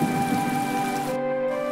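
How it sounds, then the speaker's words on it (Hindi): Heavy rain pours down on a village, a steady dense hiss with a low humming musical drone underneath, continuous and fairly loud, with no talking. "ये तो बहुत तेज बारिश हो रही है"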